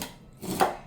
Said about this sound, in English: Scrape all the corn off.